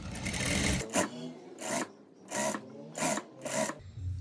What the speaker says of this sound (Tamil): உள்கட்டு தையல் போடுறதுக்காக இந்த மாதிரி மடித்து தைக்கிறேன்